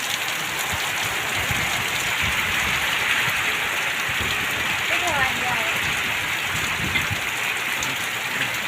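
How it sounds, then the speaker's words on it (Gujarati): Heavy rain lashes farm fields near Patan during a windstorm, a dense, steady hiss of downpour with gusty wind rushing through it, loud and continuous throughout with no talk. "જોરદાર પવન સાથે વરસાદ ચાલુ છે મિત્રો."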